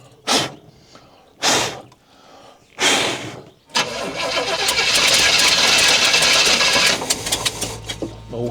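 A project car engine cranking in three short bursts, then catching and running roughly at a loud, uneven idle with a raised rev in the middle before settling.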